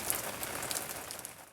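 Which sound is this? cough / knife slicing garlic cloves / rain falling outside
rain falling outside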